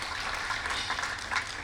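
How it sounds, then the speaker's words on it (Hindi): Audience applause during a cultural stage event at Vikramotsav 2026, a steady wash of clapping throughout with no distinct voices. "तालियां बजाते चलें।"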